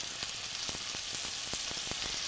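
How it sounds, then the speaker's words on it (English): Chicken pieces sizzle as they brown in a hot pan, a steady crackling hiss with quick sharp pops scattered throughout, close and continuous with no talk. "We're gonna get moving with this chicken. We actually want to not crowd the pan. So, perfect. Should get sizzling right away."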